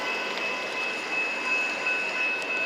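A train rolls by on the rails, a steady close rumble with a sustained high wheel squeal running through the whole stretch, no voices.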